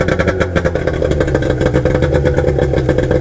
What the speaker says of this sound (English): It started straight away. That's just, this outboard for me is the best.